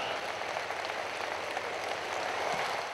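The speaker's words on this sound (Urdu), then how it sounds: "سٹینڈنگ اوویشن، بھرپور تالیاں" A large audience gives the Prime Minister a standing ovation, with dense, sustained applause that stays steady and moderately distant and fills the whole stretch without pause.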